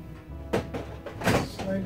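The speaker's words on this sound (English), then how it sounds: "Now we're ready to put this drawer in here." An IKEA garbage pull-out drawer slides into a kitchen cabinet, giving two soft thunks about a second apart as it seats on its runners, close by and moderately loud.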